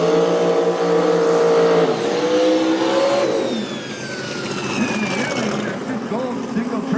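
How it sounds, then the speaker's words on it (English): A 1986 Ford Mustang drag race car with a 632 big-block engine revs loudly, its pitch climbing and dropping through several steep sweeps. Crowd or commentary noise sits underneath. "Justin Collins in that 86 Mustang."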